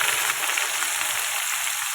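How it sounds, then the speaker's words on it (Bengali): Chopped onions, cardamom and whole garam masala sizzling in hot oil in a pan for a mutton curry, a steady, loud, close crackling hiss that continues evenly throughout with no talking. "এলাচ গরম মশলা দিয়ে দিচ্ছি, পেঁয়াজটা কেটে রেখেছিলাম দিয়ে দিলাম"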